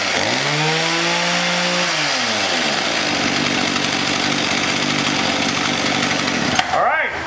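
ECHO chainsaw engine running steadily after a carburetor idle adjustment, a loud continuous buzz that rises and settles in pitch, then briefly revs near the end.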